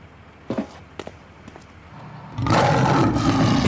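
A few scraping thumps, then a loud, rough, sustained growl swells up and holds, close and heavy, with no one talking.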